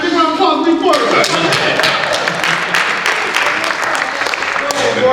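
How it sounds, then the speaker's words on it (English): A panel audience claps in a broad burst of applause for a man named Boris at a career advice event, steady and fairly loud for several seconds, with scattered individual claps and a voice over the clapping. "Big round of applause, big Boris."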